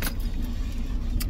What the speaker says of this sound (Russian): Закрываю, значит, двери, стою, вот, там, пытаюсь воткнуть ключ в этот самый.